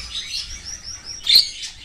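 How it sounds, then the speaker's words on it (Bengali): Rainbow budgerigars kept as breeding pairs give thin, high chirps and warbles, faint and continuous, with one sharper, louder chirp near the end and no voices. "আজকে আমি আপনাদেরকে আমার বাজরিগর বিক্রি করার আছে সেগুলো দেখাবো"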